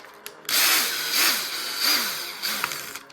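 Power tool deburring the cut end of a metal tube for an RC basher's RPM suspension arm repair: a loud whirring grind in three or four sustained bursts with brief dips between, close up and with no talk.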